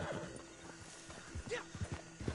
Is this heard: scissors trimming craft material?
no